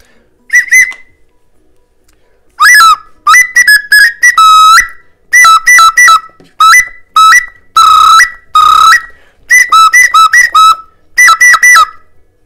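A Khludnevo clay whistle plays a series of short, bright, warbling phrases with brief pauses between them, loud and close, with no talking.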